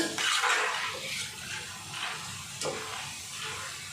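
Karasev dough frying in hot oil gives a steady hissing sizzle with a few brighter crackly bursts, close and moderately loud, with no talking.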